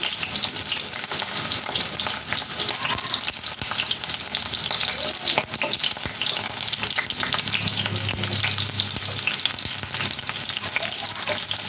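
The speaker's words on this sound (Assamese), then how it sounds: "পিঁয়াজৰ পানী ওলাই গতিকে তেলত দিওঁতে অকণমান ফুটি উঠিছে দেখিছেনে তেলবিলাক ফাটি গৈছে" Sliced onions fry in hot oil, spluttering and crackling as their moisture hits the pan, with stirring scrapes; a dense, continuous sizzle close by with no talking.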